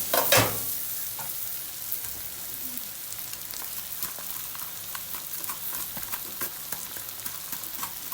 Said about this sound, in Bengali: এবার করলা ভাজিটা করে নিচ্ছি